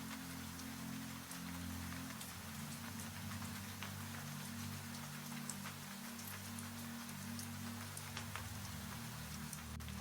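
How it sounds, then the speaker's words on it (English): Soft rain falls steadily against a bedroom window at night, a continuous gentle patter with scattered light drop ticks, alone and evenly quiet throughout. "Rain continues softly at the window."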